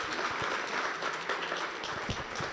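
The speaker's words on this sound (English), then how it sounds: "A round of applause to our guests of honor." An audience at a town hall meeting on the digital economy applauds its guests of honor, with dense, sustained clapping from a crowd filling the room throughout.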